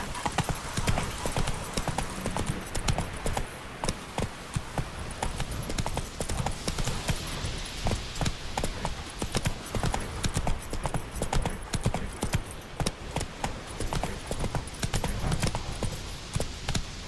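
Hoofbeats of a horse galloping in The Witcher 3 pound in a fast, steady rhythm for the whole stretch, loud and close, with an occasional faint snort.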